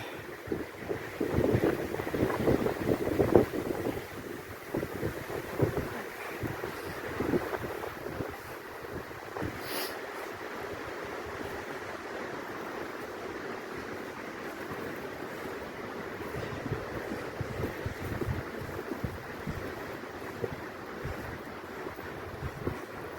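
Cold wind blows across a mountain in fog, a steady rough rushing with gusty buffeting against the microphone that lasts the whole stretch, with no talk.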